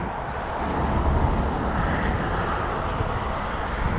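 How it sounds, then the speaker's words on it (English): An airliner landing at LAX produces a continuous low engine rumble with a broad, steady roar, close and fairly loud, with no talking over it. "There's that plane landing over there."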